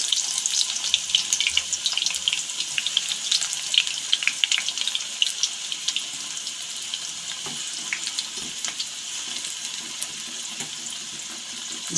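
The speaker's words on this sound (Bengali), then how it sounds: "এখন ওই গরম তেলের মধ্যে দিয়ে দিচ্ছি পেঁয়াজ" Chopped onions hit hot mustard oil in a kadai on a gas flame, giving a steady, close hiss and crackle that starts loud and eases slightly over time, with no voices.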